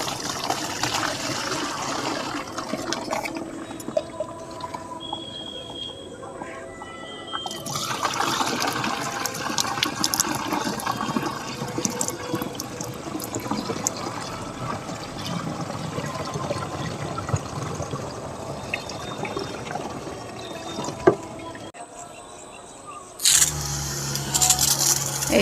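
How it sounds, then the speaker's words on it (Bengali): Water poured from a small container onto a potted dragon fruit plant, a steady close trickle and splash running for most of the stretch with brief pauses and shifts in flow, no talking over it. "এই জলটা আমি এখন দিয়ে দিচ্ছি।"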